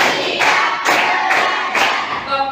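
A class of students claps together on a counted rhythm, four evenly spaced, bright group claps in a reverberant room with a faint crowd murmur.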